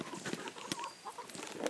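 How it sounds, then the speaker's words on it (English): A chicken clucks in a few short, close bursts over a low background hiss, with no talking. "Don't be a grumpy chicken."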